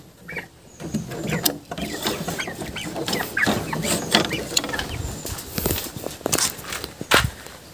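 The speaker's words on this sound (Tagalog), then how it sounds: "Yun yung mga broiler natin na nandito sa luma nating kulungan." Broiler chickens, about thirty of similar size, cluck and shuffle around inside an old coop. The busy, continuous clucking is close, with scratching and rattling movement mixed in.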